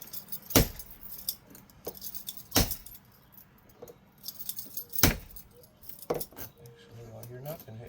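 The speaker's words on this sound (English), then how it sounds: "Want that key moving freely when you're bumping." A bump key struck repeatedly in a door lock during a foreclosure rekey, giving sharp metallic taps and key jangles spaced a second or two apart, fairly close, with faint background noise.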